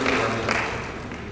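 An audience applauds at a provincial government event in NTT, producing a short burst of mixed clapping that fades out over about a second.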